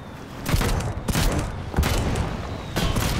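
Gunfire in the building game Trailmakers, heard as a few heavy booming bursts spaced about half a second apart, with rumbling thuds between them.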